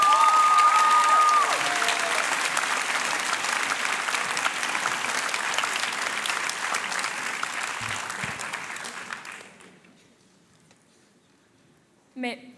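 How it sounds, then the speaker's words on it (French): Warm, loud applause from a crowd at the final of a high-school eloquence contest, dense and sustained before fading out toward silence around ten seconds, followed by a brief isolated sound near the end. "s'il vous plaît, des applaudissements chaleureux pour Cléo Ritt."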